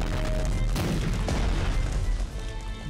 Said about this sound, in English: Get the big guns going.